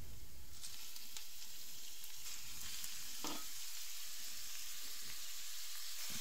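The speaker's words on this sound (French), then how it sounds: "Je verse mon chorizo." Chorizo sizzles and fries in a pan with a steady, dense crackle, close and continuous and free of speech, with a brief stir partway through.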